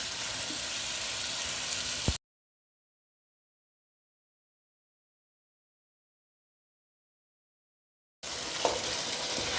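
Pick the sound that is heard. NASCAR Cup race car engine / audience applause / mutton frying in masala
mutton frying in masala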